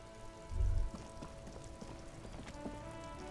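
Rain falling in the game Disco Elysium, a steady soft patter on surfaces with a low thump near the start, no speech over it.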